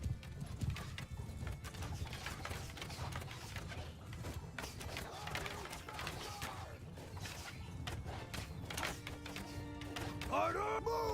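Horses galloping in a battle in the video game Mount & Blade II: Bannerlord, a dense continuous clatter of many hooves with an occasional whinny, heard under a voice shouting.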